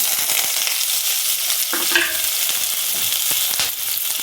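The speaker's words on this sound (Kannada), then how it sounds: "ಇವಾಗ ಎಣ್ಣೆ ಹಾಕಿ ಫ್ರೈ ಮಾಡ್ತಾಯಿದ್ದೀನಿ ಸೋಂಪು ಜೀರಿಗೆ ಈರುಳ್ಳಿ ಮೆಣಸಿನಕಾಯಿ" Fennel, cumin, onion and chillies fry in hot oil for masala puri, giving a steady, close, loud sizzle with light stirring and scraping on top and no speech.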